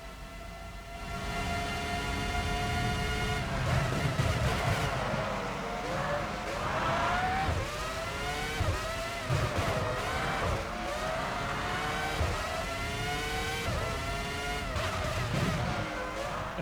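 Formula One race car engine in the Formula One 05 video game, a loud high-pitched whine rising and falling with gear changes and revs, continuous throughout with brief tire squeals.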